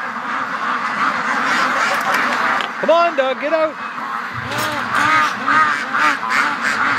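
Ducks give several nasal quacks and honks as they are let out of their pen at the end of the day, close by, with someone talking over them.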